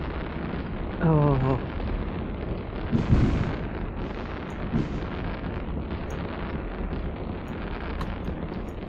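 Fireworks launched in the space game Eve Online, heard as a continuous roaring, rumbling wash with occasional louder booming bursts, loud and close, with a brief vocal exclamation early on.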